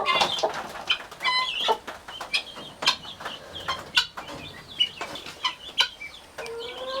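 Guinea fowl and Plymouth Rock chickens in a coop give repeated clucks, squawks and sharp calls in irregular bursts, with some wing flapping and rustling, close and fairly loud, with no talking.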